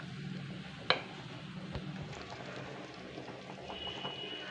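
Korma curry simmering in a pot, a soft bubbling texture with a clear utensil tap near the start and faint clinks, quiet and close, without speech.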